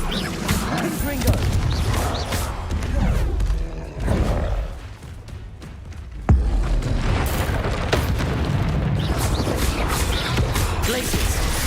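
Confringo spell explosions in the video game Hogwarts Legacy: loud, dense booming blasts and rumbling bursts filling the clip, with a brief lull midway and a sharp crack before the roar resumes.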